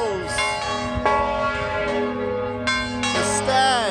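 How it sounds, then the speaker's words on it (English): Large bells of a Liverpool cathedral ring out with several rich, resonant strikes that overlap and hum, loud and near. "up there is where the bells are, as you can hear."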